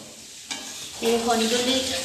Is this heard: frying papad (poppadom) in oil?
yes